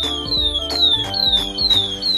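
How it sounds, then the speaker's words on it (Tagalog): Alarm system on an LGE unit sounding, a loud repeating electronic siren tone that sweeps downward in steady cycles, close up with engine hum underneath and no talking. "May alarming system na rin po si LGE."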